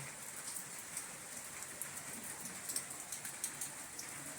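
Steady dawn rainfall patters down continuously, with scattered louder drops striking a surface nearby amid a soft, even hiss and no voices.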